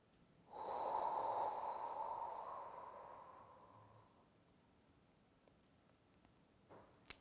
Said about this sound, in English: We are exhaling